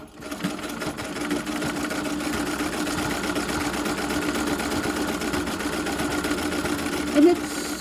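An old treadle sewing machine stitches in a continuous, fairly quiet mechanical whir with a fine rapid rhythm, running steadily and close by the whole time.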